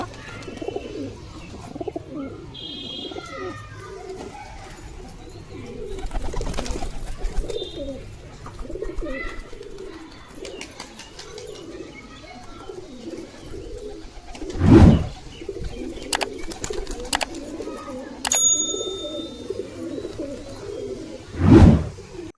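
Several pet pigeons coo in soft, repeated throaty calls close by, with a few brief sharp chirps and flutter-like bursts among them. No one speaks.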